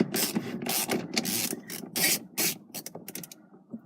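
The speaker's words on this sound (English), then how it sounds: "And you got a big ratchet with an extension. And you go on it like that." A large ratchet on an extension turns the steering wheel bolt of a BMW E34 with a three-spoke wheel, giving rapid bursts of close, loud clicking with brief pauses between strokes.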